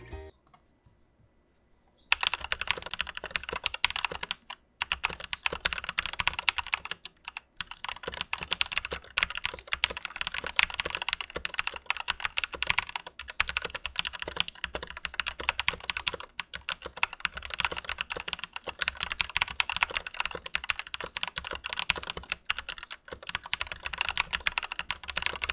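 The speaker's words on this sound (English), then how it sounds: "This is how the keyboard sounds in its stock configuration right off the box." Continuous typing on a RAKK Tandog Pro Kalidad mechanical keyboard in stock configuration, with dense, steady clacking keystrokes close up after a brief quiet start, with no talking.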